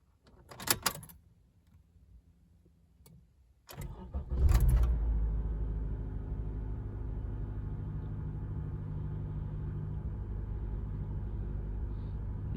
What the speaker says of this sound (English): It's a very smooth sound of engine.